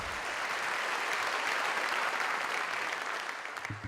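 A crowd at a 2018 State of the City address gives a sustained round of applause for a high school performer, full dense clapping that holds steady and then thins and tapers near the end.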